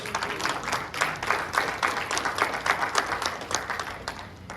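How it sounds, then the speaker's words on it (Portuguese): A church congregation claps during a family worship service, a rhythmic pulse of many hands beating together in regular waves, moderately loud, without speech. "Você pode aplaudir o Senhor por isso?"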